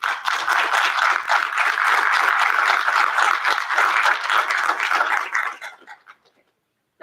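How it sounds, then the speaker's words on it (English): An audience applauding panelists at the end of a discussion, with dense, steady clapping from a large crowd for about five seconds that then thins to a few scattered claps and dies out. "join me in giving our panelists and yourselves a round of applause"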